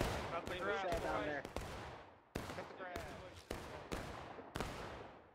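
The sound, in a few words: rifle gunfire in War of Rights video game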